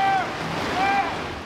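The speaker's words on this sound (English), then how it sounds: "the Ogden River flowing high under a bridge" Fast high water of the Ogden River rushing under a bridge, a steady broad roar with gusty wind noise buffeting the microphone and a couple of faint whistling tones.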